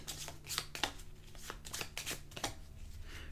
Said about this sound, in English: you shuffle all the state cards together